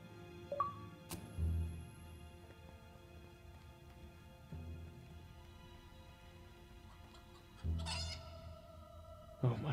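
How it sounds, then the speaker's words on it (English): Chickens clucking in the video game Fable 3, several short close bursts of fowl calls and a rooster-like cry scattered over a quiet steady backdrop. "A chicken?"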